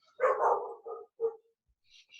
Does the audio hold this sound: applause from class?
no